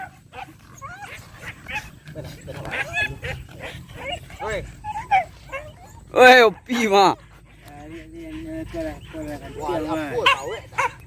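Dogs bark, yelp and whine excitedly at a dog race, with loud barks standing out, mixed with people talking and shouting nearby.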